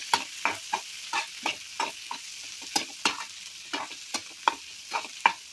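Tomato and cashews frying in masala, stirred with regular scraping strokes of a spoon against the pan, each stroke a short close scrape over a faint sizzle, with no talking.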